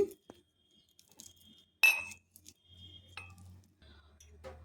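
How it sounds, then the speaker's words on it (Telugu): Mint leaves and a small piece of green chili being lightly muddled in a glass make a few sparse, sharp glassy clinks and taps, with quiet gaps between them. "కొద్దిగా పుదీనా, చిన్నది పచ్చిమిరపకాయ ముక్క వేసుకొని లైట్‌గా స్మాష్ చేసుకోవాలి."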